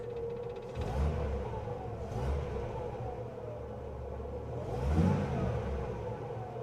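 Wolseley 6/99, a 1950s British classic car, with its engine running steadily at a low rumbling idle, swelling into two or three gentle revs, close by and heard alone without voices.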